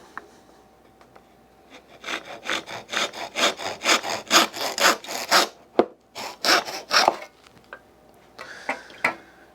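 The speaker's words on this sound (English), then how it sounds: "Let's see what happens when I cut this bamboo with a Western saw." A Western handsaw cuts through bamboo in bursts of rapid, raspy back-and-forth strokes, close and loud, pausing briefly midway and ending with a few lighter final strokes.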